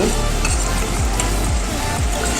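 Tilapia fish pieces with ground cumin, turmeric, chilli and coriander spices sizzle loudly in an oily frying pan, with a low rhythmic scraping pulse repeating about every half second, close up and without speech.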